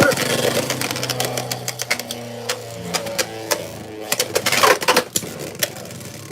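Beyblade tops launched into a plastic stadium, Rock Leone among them, clattering and scraping in rapid clicks and knocks while spinning, with a brief voice and tonal sounds underneath.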